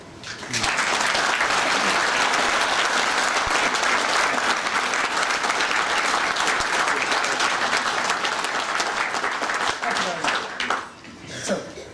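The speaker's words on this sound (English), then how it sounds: "please, a big round of applause to our guest of honour" Sustained, loud applause from a fan convention audience honouring a guest, dense clapping with a few faint chuckles and murmurs, holding steady for about ten seconds before tapering off near the end.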